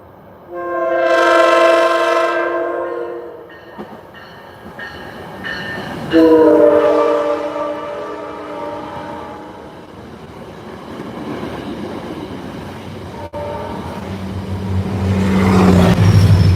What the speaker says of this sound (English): Oh, here we go. Okay, everyone. Virginia Railway Express.